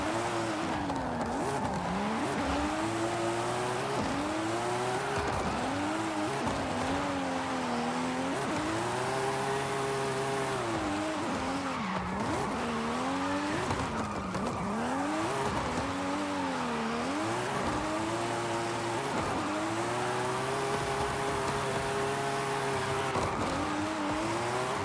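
A video-game car drifts continuously in Forza tandem play, its engine whining in sweeping, rising and falling pitch as the driver throttles through slides, with steady tire squeal underneath for the full stretch.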